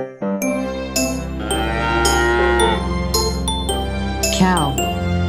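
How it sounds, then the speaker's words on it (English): A cow moos in a long, loud, tonal low call heard alone, with bright jingling, tinkling chimes over a steady musical backing throughout. "Cow."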